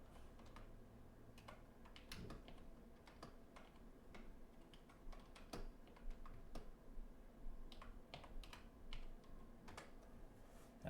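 Quiet, irregular clicking of keys on a computer keyboard, searching an online Bible, bursts of typing with short pauses, heard close and faint against a soft background hum.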